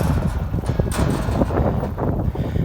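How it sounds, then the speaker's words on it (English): Wind gusts outdoors buffet the microphone during a scrap metal pickup, producing a loud, continuous low rumbling roar with irregular bursts and no clear speech. "Sorry about the wind, it is really picking up."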